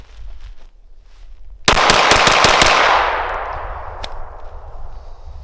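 A Smith & Wesson M&P 9 Spec Series handgun fires a rapid string of about six loud, sharp shots in close succession, followed by a long fading echo at the range.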